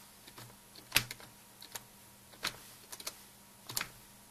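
Computer keyboard keys tapped one at a time to enter a fastboot command while rooting an HTC One X smartphone, a few sparse, crisp clicks spaced apart in a quiet room.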